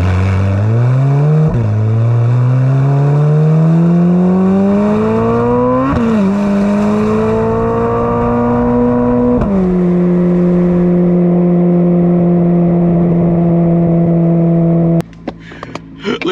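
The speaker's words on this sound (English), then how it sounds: "The GoPro back there, they was catching the exhaust sound." Close, loud exhaust of a blue Corvette Z06 pulling through several gears, each rising engine note broken by a shift, then holding a steady high cruise before cutting off abruptly near the end.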